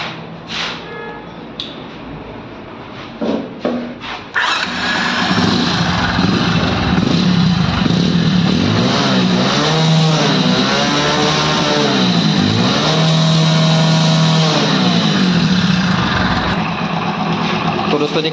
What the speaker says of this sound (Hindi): देख पा रहे हैं इसके इंजन की आवाज़ जो मैं आपको सुना रहा हूँ